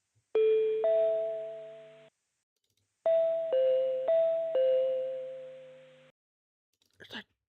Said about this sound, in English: I'm honestly beyond the moon that we got the platform chimes